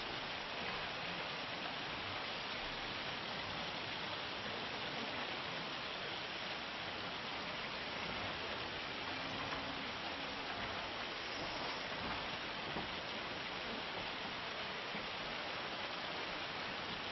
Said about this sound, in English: Now we've got hailstones for the builders to battle against.